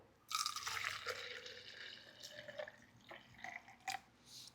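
Chlorophyll sea moss drink pours from a shaken container into a glass, a close, dripping and splashing liquid stream with a few uneven spurts and trailing drips.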